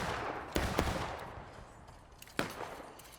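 Scattered musket shots in the Civil War game War of Rights at Harper's Ferry, a few sharp separate cracks over a continuous background roar of battle.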